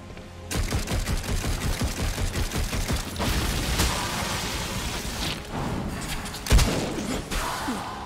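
Rapid bursts of gunfire from a favourite gun in Darksiders Genesis, a fast rhythmic volley of loud shots for the first few seconds, then heavier thuds and a booming impact amid game noise.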